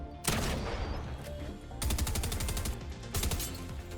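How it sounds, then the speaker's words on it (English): Rapid bursts of video-game gunfire from a Fortnite Havoc shotgun and SMG, bullets striking the ground in dense crackling volleys, loud and close, with a short pause between bursts and no talking. "just listen to these bullets hit the ground"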